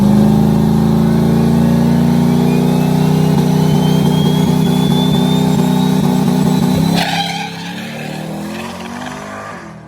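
Joe's no-prep drag car, run alongside a Mustang, roaring loud and close through a pass, its engine note climbing steadily, then cutting off sharply into a lower rumble near the end.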